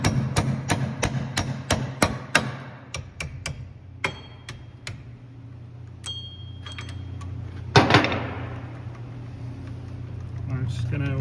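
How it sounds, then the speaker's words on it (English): Sharp metallic hammer strikes ring out in a rapid regular series on rusty rear wheel bearing parts of a 2016 Hyundai Elantra, then slow to scattered blows, with a low engine hum and a clank in the background. "We're just going to hammer these on and off just to get all the rust off."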